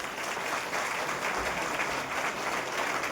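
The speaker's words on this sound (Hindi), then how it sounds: "मैं चाहूंगा एक बार सर के लिए जोरदार ताली बजाएं" An audience at a direct-selling business presentation claps loudly and steadily throughout, a dense, continuous round of applause without talking.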